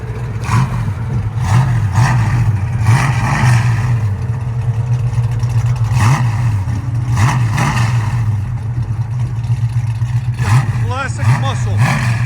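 A Ford Mustang Mach 1 V8 muscle car rumbles close by with a deep, throbbing idle, broken by repeated short throttle blips. People talk over the engine noise.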